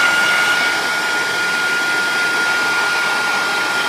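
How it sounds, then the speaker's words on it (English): A heat gun blows a steady, loud broadband hiss while shrinking tubing over the cable ends of an audio snake, running continuously at close range with a faint whine on top. "What we're going to grab is our heat gun, and we are going to start heating from this end"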